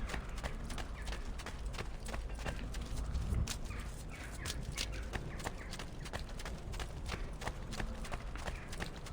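Rapid, irregular hoof clops patter throughout over a dense, noisy background, a horse moving at a quick gait in Assassin's Creed II.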